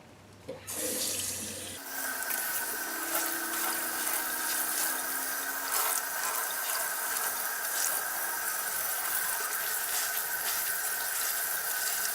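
A faucet turns on and water runs steadily into a sink while a tie-dye shirt dyed with powder dye is rinsed under the stream. The splashing continues close and unbroken for several seconds, with no voices.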